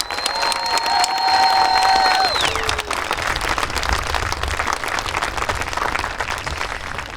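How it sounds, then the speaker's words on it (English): Graduating class of 2020 receives sustained audience applause at a high school graduation ceremony, with cheering and whooping over the first few seconds before steady clapping continues to the end. "nice round of applause"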